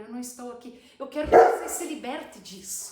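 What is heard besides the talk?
dog barking in the background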